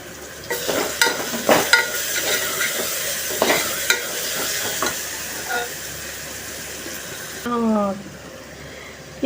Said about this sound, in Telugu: ఇప్పుడు ఇందులో ఇలా 1 నిమిషము రవ్వ కూడా వేగనివ్వండి.